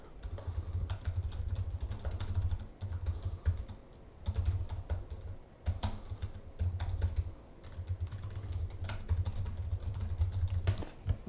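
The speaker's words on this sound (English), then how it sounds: "So let's give this a quick type here." Keys clatter steadily on a Chuwi CoreBook X laptop keyboard, rapid close clicks running in bursts with a few short pauses between them, and no voices over the typing.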